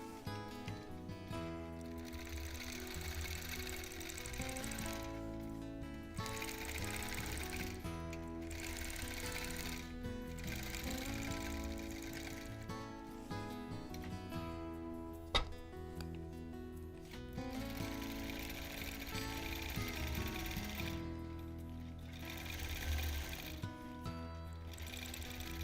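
A quilting sewing machine lock stitches while custom quilting a Double Wedding Ring topper, a soft mechanical whir and patter in uneven bursts beneath background music.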